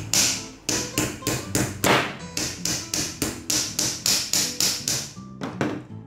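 A Bardi lamp's plastic casing is knocked repeatedly, giving a rapid series of about fifteen sharp, hard taps in a steady rhythm, loud and close with no talking.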